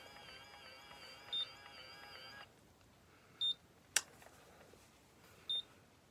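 A hair curling iron's timer gives a few short, faint electronic beeps spaced about two seconds apart, over a low hum and a quiet click.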